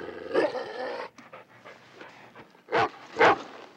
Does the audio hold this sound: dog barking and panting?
yes